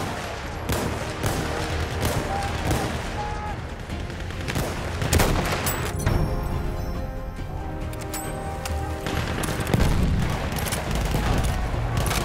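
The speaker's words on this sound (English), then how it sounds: "Up there! Machine gun!" Dense battlefield gunfire from the World War I shooter Battlefield 1 on Xbox One, with sustained machine gun bursts and scattered booms blending into a loud, continuous wall of combat noise.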